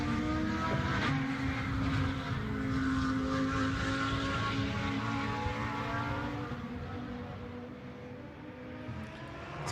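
A KTM GT2 race car at the Algarve circuit blasts through a fast kink during qualifying, its engine a loud sustained roar with shifting pitch that slowly fades as it moves away.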